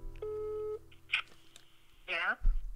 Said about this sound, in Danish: Må lige se, om hun tager mobilen.